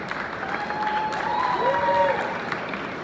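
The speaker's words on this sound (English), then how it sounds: "You give them a round of applause." An audience at Forex Expo Dubai claps in a steady, dense round of applause; a short whistle-like tone rises briefly above the clapping.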